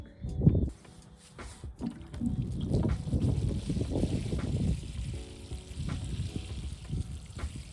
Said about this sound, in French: Je vais l'arroser.